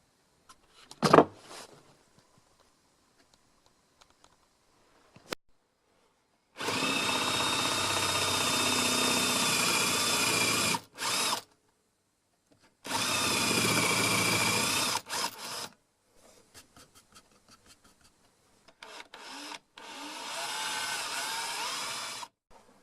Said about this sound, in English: I'll drill more of them now.